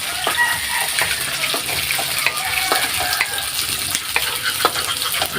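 Shells and malunggay are sautéed in a pan: a loud, continuous sizzle broken by frequent clicks and scrapes of stirring, with no talking.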